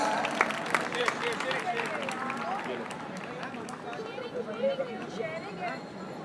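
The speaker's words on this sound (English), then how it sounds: "Please congratulate them, clap your hands." Audience at an award ceremony clapping after prize winners are called to the stage, a steady mid-level patter of many hands mixed with crowd babble and voices.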